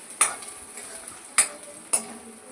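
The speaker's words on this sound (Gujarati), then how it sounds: "તળવા દઈશું." Garlic, green chilies, curry leaves and onion fry in oil under a low sizzle, broken by three crisp spoon clinks on the pan rim, near and distinct.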